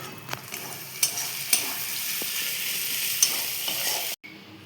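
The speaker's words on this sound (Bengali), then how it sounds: "জল দিয়ে ভালো করে কষাতে হবে। আর অল্প একটু গরম মশলা দিয়ে দেবো" A bitter gourd filling stir-fried in a pan with water and garam masala, giving a steady close sizzle with a few sharp scraping stir clicks, then cutting out abruptly near the end.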